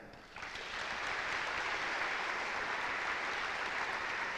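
Sustained applause from an audience honoring four award nominees at a school recognition ceremony, a dense steady wash of clapping that swells in just after the start and holds evenly throughout.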